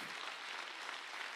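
A church congregation claps its hands in praise, a steady, even wash of applause that is fairly faint and heard without talk.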